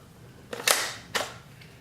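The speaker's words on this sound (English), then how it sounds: "you can move the bolt where that doesn't line up, and watch it" Rifle bolt being worked on a budget bolt-action rifle, two sharp metallic clacks about half a second apart, close and clear with no talking.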